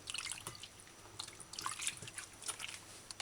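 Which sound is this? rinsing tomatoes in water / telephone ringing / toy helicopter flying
rinsing tomatoes in water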